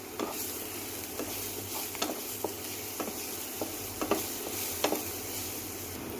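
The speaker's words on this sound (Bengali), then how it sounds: "এবার আমি রসুন কুচি দিয়ে দেবো।" Chopped garlic sizzles steadily in hot white oil in a kadai, a continuous crackling hiss broken by sharp pops and spatters at irregular intervals, close and unaccompanied by speech.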